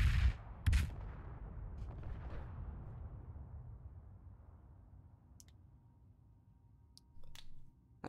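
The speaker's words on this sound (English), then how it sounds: "Damn, that is some power of this gun." A heavy gun fires in the space-building game Space Engineers, a loud booming blast followed by a second shot and a long fading rumble, with faint clicks and a later low thud.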